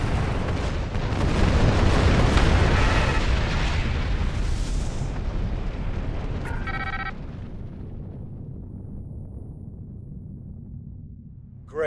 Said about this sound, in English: Warning. Ship is under attack.